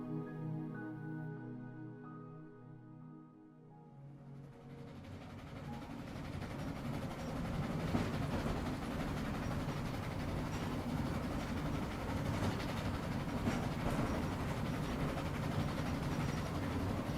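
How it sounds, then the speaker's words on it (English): A slow provincial train carriage rolls through Sicily from Palermo. After a quiet start it rises into a steady, close rumble with a continuous rattling clatter of wheels on track. "conjure the rhythmic sensation of travelling on a lazy provincial train"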